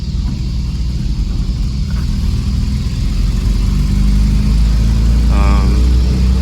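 Toyota 22R four-cylinder engine idling steadily with a low, constant rumble close by, running with some emissions equipment removed, a brief higher whine rising near the end.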